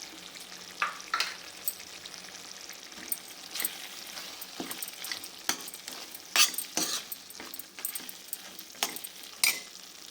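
Garam masala, coriander powder and cumin powder stirred into food frying in a pan, with a spoon scraping and clattering in irregular bursts over a steady close sizzle, no talk.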